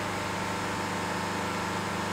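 A diesel Jeep Compass engine held at 3000 RPM with no one touching the pedal during particulate filter regeneration, a steady, even drone with a constant low hum and hiss, unbroken and fairly quiet.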